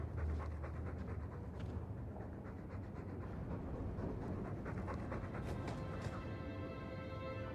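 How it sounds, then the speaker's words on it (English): A dog panting in Dragon Age 2, a steady rhythmic breathing kept up across the whole stretch at moderate level, with faint game ambience underneath. "He's a sweet dog, Hawk."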